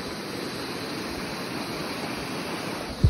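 A river flows in a steady, even rush of water that holds constant for the whole stretch, with a brief thump at the very end.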